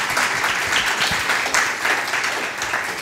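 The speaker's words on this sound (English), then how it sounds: "Thank you for the round of applause up top." An audience claps for a panel at a church gathering, a dense, steady round of applause filling the room for a few seconds.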